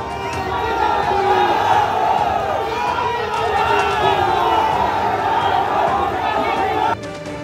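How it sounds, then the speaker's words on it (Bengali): Trinamool and BJP party supporters chanting slogans against each other at rival rallies in Pundibari, Cooch Behar, a loud, massed crowd of shouting voices in steady rhythm that continues throughout. "একে অপরের বিরুদ্ধে স্লোগান তুললেন তৃণমূল ও বিজেপির কর্মী সমর্থকরা"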